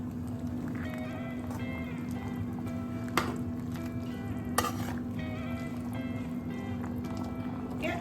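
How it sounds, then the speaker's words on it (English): Sri Lankan aubergine curry with spices sizzles and crackles steadily in a hot pot, with a couple of sharp clinks from a utensil partway through. "So you can see the curry is sizzling hot."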